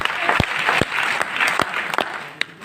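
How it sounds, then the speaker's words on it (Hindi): A short burst of audience clapping at a motivational business seminar in Gorakhpur, uneven and fairly close, with a few sharp individual claps standing out over scattered applause. "ये मूड में आज ताली बजाओ गोरखपुर जी के लिए"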